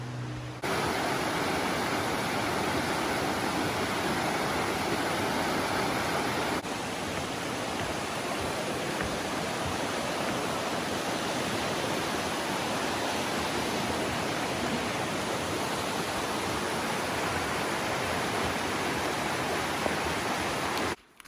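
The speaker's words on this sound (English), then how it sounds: "You're just following the river, looking at the beautiful, magnificently flowing waterfall." Laurel Fork Falls and its river give off a steady, loud, close rush of falling and flowing water that runs unbroken for about twenty seconds, with no voices.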